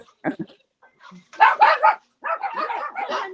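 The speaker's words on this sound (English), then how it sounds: "Oh, puppies! That's my doggies." Several dogs bark and yap in short, overlapping bursts nearby, with some whiny, high-pitched yelps mixed in.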